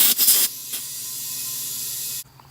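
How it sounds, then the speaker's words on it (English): Compressed air hisses loudly as a pump chuck is pressed onto a car tire's valve stem, a sharp burst at first settling into a steady, softer hiss that cuts off abruptly after about two seconds. "you're going to take your source of air and pump up your tire"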